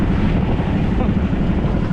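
Strong wind roars at sea aboard a boat, a dense, steady rushing with wind buffeting the microphone and churning water beneath, loud and continuous throughout.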